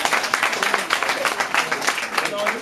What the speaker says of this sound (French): Je pense que si on doit d'abord commencer par les applaudir